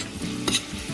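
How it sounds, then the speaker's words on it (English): Ginger sautéing in canola oil in a pan, a short close sizzle with a quick stir or scrape partway through, alone without voices. "it's been sauteing for 2 minutes"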